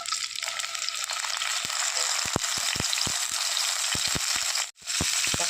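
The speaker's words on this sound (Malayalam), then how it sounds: "എണ്ണ ഒന്ന് ചൂടായി വരുന്ന നേരത്തേക്ക് നമുക്ക് ഈ എടുത്തു വെച്ചിരിക്കുന്ന തക്കാളി ഇതിലേക്ക് ചേർത്ത് കൊടുക്കാം" Tomatoes fry in hot oil for egg chammanthi with a loud, constant sizzle, punctuated by several sharp spattering pops and a brief drop-out near the end.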